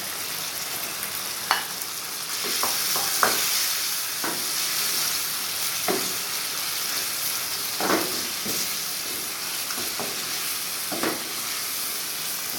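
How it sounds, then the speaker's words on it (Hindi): Spinach sizzles in a hot pan of palak gosht, a bright, steady hiss close up, punctuated by several sharp clicks and scrapes from stirring. "आँच को थोड़ा तेज कर दें। अब पालक डाल दें।"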